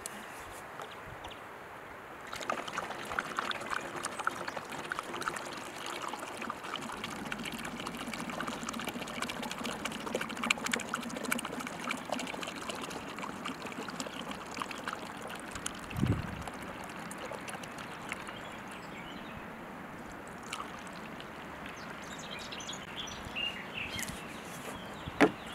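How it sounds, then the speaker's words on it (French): Water poured from a jerrycan into a detergent container, a steady splashing, gurgling flow that continues for most of the stretch, fairly quiet and close, with a brief thump midway. "Nous allons verser le contenu d'eau du jerrycan dans le bidon de lessive."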